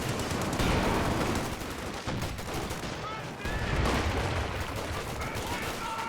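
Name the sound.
machine gun fire in a strategy video game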